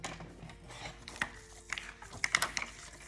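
Tracing paper being cut for a nature-themed scrapbook album: soft, papery snips and slides close by, a few crisper clicks bunched toward the end, with no talk.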